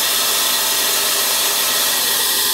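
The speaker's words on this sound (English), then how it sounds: "RPMs are running at about this, you can see the live tools we're running. Sub-spindle's at 3500 RPM." Tsugami S20D CNC Swiss lathe running live tools with the sub-spindle at about 3500 RPM, a steady, loud broadband machining whir and hiss with no breaks throughout.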